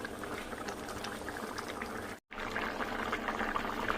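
Curry gravy boils in a pot, giving a dense, continuous bubbling burble that holds steadily close by, broken only by a brief cut of silence partway through.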